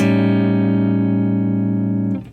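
A single sustained 7 flat 5 chord rings out clearly on a clean electric guitar, holding steady for about two seconds before being cut off with a faint scrape.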